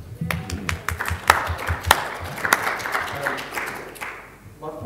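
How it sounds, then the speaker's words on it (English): Audience applause at a public-sector design session during a civil service conference, a fairly loud burst of scattered claps sustained for several seconds in a hall, with some voices mixed in and fading toward the end. "Round of applause."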